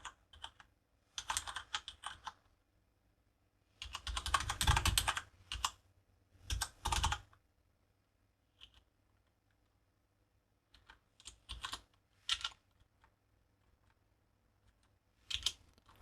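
Typing on a computer keyboard in bursts of rapid, close key clicks separated by quiet pauses, with a few isolated single taps in a near-silent room.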